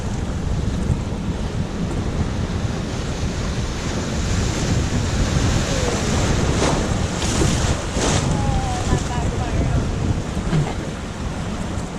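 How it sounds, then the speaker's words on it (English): Rushing river rapids churn loudly and continuously around a raft during a racecourse training run, a dense, steady roar of turbulent water with wind buffeting the microphone and no talking. "If you guys ever close your eyes for these kind of rapids, it feels very nice."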